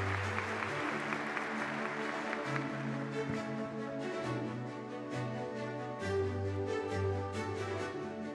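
Audience applause at a formal Turkish ceremony, sustained and fairly steady, with dense clapping heard over a low hum and music-like tones throughout.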